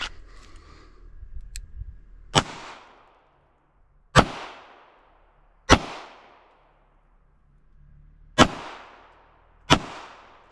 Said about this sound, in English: the precise shooting requires a little bit more settling things down before I press the trigger and break the shot